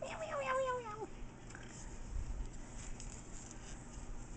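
A cat gives a rising, wavering meow at the start, then a steady low background hum fills the rest.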